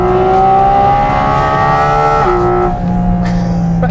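A Porsche 718 Cayman GT4 RS engine is held at high revs, loud and close, then its pitch drops as the revs fall, with no talking over it.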